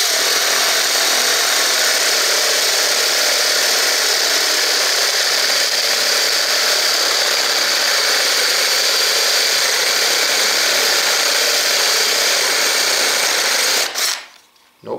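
A Makita CXT FD06Z cordless drill bores with a 1-inch spade bit, a loud, steady whirring drone held close for about fourteen seconds before cutting off abruptly.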